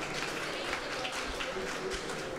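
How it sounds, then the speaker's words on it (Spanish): Audience applause at a church community gathering, a continuous broad wash of many hands clapping at steady loudness throughout. "Por eso lo saludamos y le damos un aplauso a Francisco, ¿verdad?"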